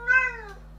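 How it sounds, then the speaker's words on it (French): A single cat meow, short and clear with a rising then falling pitch, close and fairly loud over a steady low hum. "Qui est là? C'est le chat."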